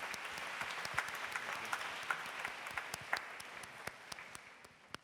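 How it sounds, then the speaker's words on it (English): An audience at an alumni talk applauds, a quiet, even patter of many hands with a few sharper claps, tapering off toward the end. "A big round of applause for all the answers there"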